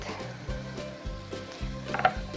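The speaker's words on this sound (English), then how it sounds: "Okay, so the bacon is cooking." Bacon fries in a pan with a soft, steady sizzle and faint crackle, heard up close for a couple of seconds with no talking.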